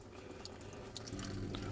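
Water runs steadily from a camper sink tap fed by an electric water pump, a continuous close splashing hiss that swells slightly louder toward the end.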